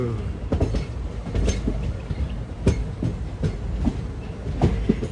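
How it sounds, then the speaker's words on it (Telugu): A passenger train on the Vijayawada–Guntur–Macherla line rolls along the rails, its wheels beating out a steady, loud clickety-clack with repeated sharp knocks, heard close from on board with no voices. "అదే మన లోకోమోటివ్."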